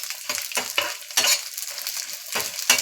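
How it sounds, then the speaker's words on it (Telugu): Dry meat sizzles and fries in a pan while it is stirred, giving bursts of crackling hiss with pauses between stirs, close and fairly loud, with no talking. "మాడిపోకుండా మంచి ఫ్రై చేసుకోవాలి ఫ్రెండ్స్"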